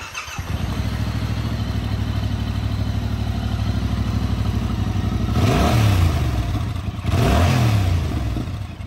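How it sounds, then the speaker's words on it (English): A 2022 Yamaha MT-07 parallel twin on its OEM exhaust, idling with a steady loping pulse, then revved twice in quick blips that rise and fall, loud and close with no talking. "Take a listen to how the OEM exhaust system on the 2022 Yamaha MT-07 sounds."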